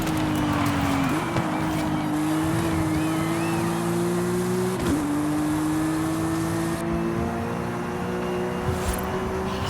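Porsche 992 911 GT3 RS flat-six in Forza Horizon 5, a steady high-pitched engine drone holding near-constant revs with small shifts and dips, loud and continuous throughout with no talk.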